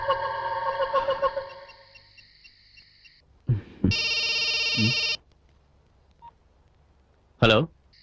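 An electronic telephone ringtone for an incoming call in a Telugu film scene: steady tones, then a loud sustained ring burst and a short chirp near the end, with voices talking in the scene.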